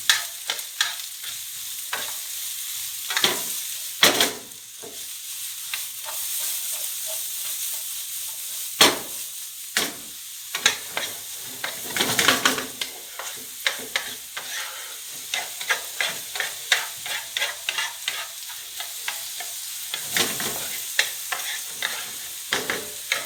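Garlic fries in hot oil in a pan for garlic mushrooms, a continuous close sizzle broken by frequent scraping and stirring clatters at an uneven rhythm.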